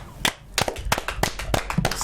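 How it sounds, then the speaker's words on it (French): Studio audience applause greeting a guest, the CEO of GPDAF SARL, on a TV magazine show: a few sharp, scattered claps building into irregular clapping over two seconds, fairly close. "Salle d'applaudissements"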